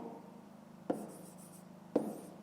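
A pen scratches twice in a maths exercise book, each brief stroke sharp and close over a quiet room hum.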